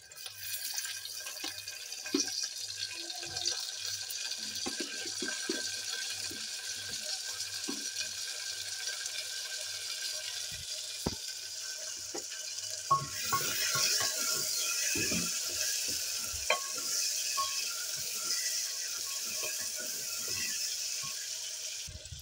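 Chopped tomatoes hit a pan of browning onions and set off a steady, close sizzle that grows brighter and louder partway through, with a few scattered clinks and stirring scrapes.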